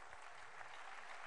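An audience at a talk claps steadily, dense even applause sustained through the brief moment, faint and distant.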